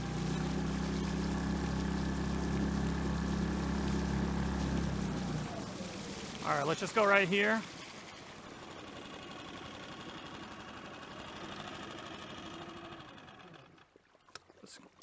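A 6hp outboard motor idles on a Newport NS130 inflatable skiff, a steady low drone that cuts off partway through, after which someone talks briefly and water laps quietly.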